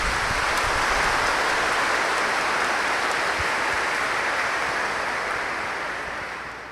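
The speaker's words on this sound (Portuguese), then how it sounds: "Quem concorda com isso, aplaude o Senhor." A church congregation applauding during a homily, a dense, steady wash of many hands clapping that holds strong for several seconds before gradually fading toward the end.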